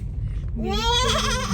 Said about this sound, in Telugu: మేకలా